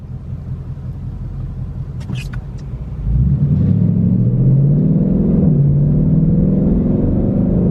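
A GT sports car in sport mode on a wet, rainy road gives a steady low rumble that swells into a rising engine note as it accelerates, close and loud throughout, after a few faint clicks.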